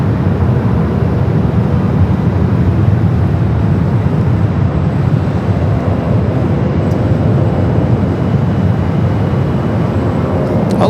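A passenger jet departs Phoenix Sky Harbor with a loud, steady broadband engine roar that holds evenly throughout, with no voices over it.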